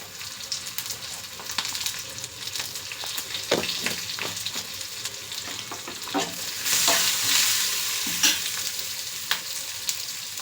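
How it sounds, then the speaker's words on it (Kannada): Ginger and other ingredients for hotel-style mint rice fry in a pan as a spoon stirs them. The close sizzle runs steadily, broken by repeated scraping and clinking stirs, and grows louder toward the end. No one talks. "ಇದೆಲ್ಲ ಈ ಥರ ಫ್ರೈ ಮಾಡ್ಕೊಳ್ಳಿ. ನೋಡಿ, ಫ್ರೈ ಆಯಿತು."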